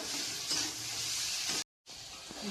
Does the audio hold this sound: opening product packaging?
no